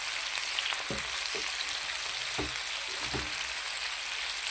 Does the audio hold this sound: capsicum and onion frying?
yes